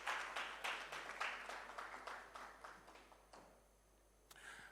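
Audience at a Graphic Business-Stanbic Bank breakfast meeting applauding to welcome the chairman, a faint, fairly distant burst of clapping that tapers off into near silence before a brief final tap.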